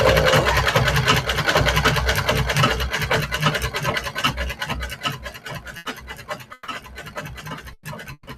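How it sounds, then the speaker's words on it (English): A sewing machine runs steady straight-line stitching, a close, loud, continuous mechanical whir that begins to break into short bursts and pauses toward the end. "all this beautiful straight line stitching"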